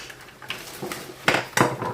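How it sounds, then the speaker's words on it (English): A chopping board set down in a kitchen sink while tidying up after cooking: a few light hard clunks and knocks, the two clearest near the end, in an otherwise quiet kitchen. "Put my chopping board in the sink, ready to wash."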